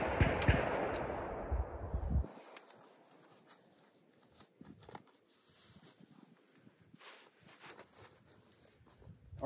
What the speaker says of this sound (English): I'm going to go and I'm going to start working multiple shots from multiple positions